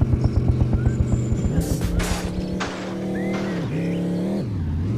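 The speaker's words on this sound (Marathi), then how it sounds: "आता आपण एका मोटरसायकलमध्ये बसलो आहोत." A motorcycle is ridden in a video game, its engine putting out a pulsing drone that rises and falls with the throttle, with loud tire screeches and skids over the top and no voices.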